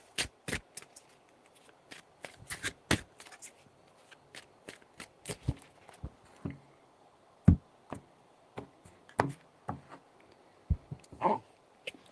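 Tarot deck handled up close in a quiet room, a string of sharp separate card snaps, taps and short shuffles spaced irregularly, with no voice.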